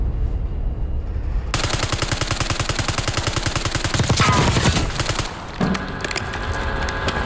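Sustained automatic gunfire in Warzone Black Ops 6 rattles in a rapid, even stream of shots, loud and close, with a brief pause and shifts in tone near the end.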